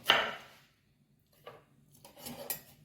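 A knife chops onions on a cutting board in a home kitchen, a few separate soft knocks and scrapes spaced out over a few seconds, close and fairly quiet with no talking.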